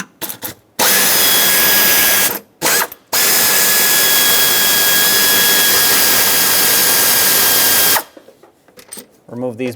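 A power tool loosens the four 10mm throttle-body bolts on a 2008–2010 Ford F250 Super Duty 5.4L V8. Loud, close high whining bursts come in a short burst, a brief blip, then a long run, followed by someone talking.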